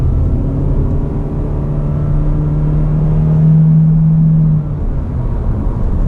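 A 2019 Honda Insight hybrid accelerates hard at full throttle, a loud steady engine drone with a sustained hum that holds for several seconds, then eases off, heard from inside the cabin.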